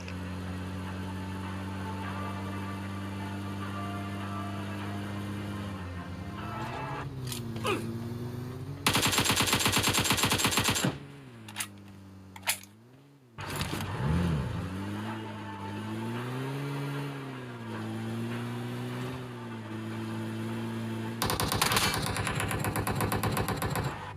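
In PUBG Mobile, a vehicle engine drones and shifts pitch as it approaches, while loud bursts of automatic gunfire break in several times over the motor sound.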